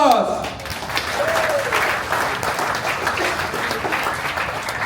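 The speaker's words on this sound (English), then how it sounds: "Round of applause!" An audience at a 2025 Chinese New Year company gathering breaks into full applause, a thick wash of clapping that swells after a brief opening voice and stays loud and steady throughout.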